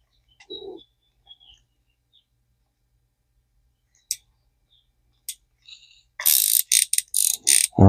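A ZEBCO 33 Rhino Tough spincast fishing reel under repair gives a few scattered faint clicks and taps, then a loud burst of rapid ratcheting clicks near the end, heard up close in a quiet room.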